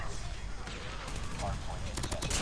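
Rapid bursts of gunfire crackle in a Call of Duty game, growing denser toward the end, under a low background rush.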